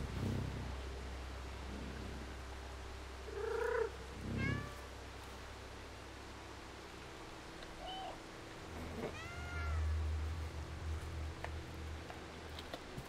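Indoor cat gives a few soft, quiet meows and chirps spaced apart, with low background hum and faint rumbling between them.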